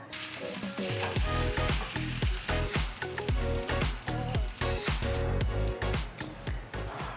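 Marinated pork pieces fry in a hot pan for Korean BBQ, a loud steady sizzle broken by repeated clacks and scrapes as the meat is moved and flipped often, with strong music-like tonal bands running throughout.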